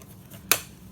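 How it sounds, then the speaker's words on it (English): A single crisp snip of scissors trimming sewing thread close to fabric, brief and near, in an otherwise quiet room. "now I will use my scissors and cut them off really"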